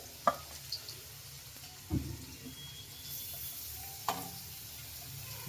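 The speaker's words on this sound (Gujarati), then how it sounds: "મરચાં ટમેટા બધે આપણે નાખી દઈએ ને આપણે ડુંગળી નાખી દેવાની છે આની અંદર" Chilies, tomatoes and onion go into hot oil in a pan for Manchurian, giving a faint, soft sizzle broken by a few clattering stirs and knocks, quiet and without speech.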